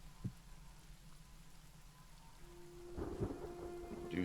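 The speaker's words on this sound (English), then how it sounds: "got a thunderstorm going on" A thunderstorm with rain rolls through in the game Hytale: low rumbling thunder swells over a steady rain hiss, with a brief crack early on and a louder rumble toward the end, no voices.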